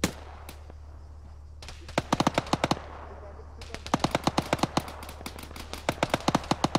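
Arma 3 gunfire: rapid automatic bursts of sharp, loud shots cracking in quick strings, with pauses between volleys over a steady low rumble.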